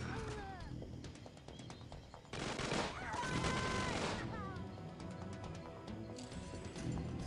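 Rapid bursts of gunfire from the Tiny Troopers 2 war game, with dense fusillade clusters mid-clip over continuous game music and effects, moderately loud.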